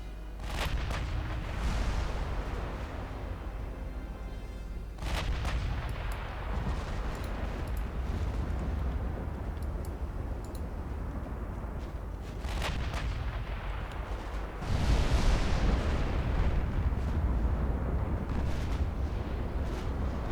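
Warship guns firing in Ultimate Admiral Dreadnoughts, with repeated deep booming salvos rolling over a steady low rumble of naval battle ambience, loud and continuous.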